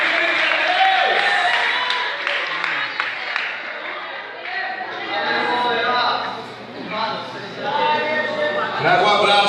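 A church congregation claps and cheers during a sermon, with swelling crowd applause mixed with voices and shouts, rising and falling in waves from start to end.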